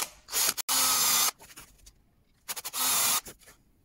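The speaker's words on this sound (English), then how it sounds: "So now I'm just going to drill straight through there." Electric drill with a long centre-point bit boring straight through wood during carriage clock shelf repair work, two sustained loud whining bursts with brief gaps and small starts between them.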